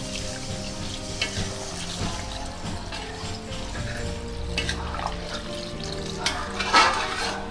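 Water poured into a pan of frying chicken, a rushing pour over a steady sizzle with stirring, close and moderately loud, swelling briefly near the end.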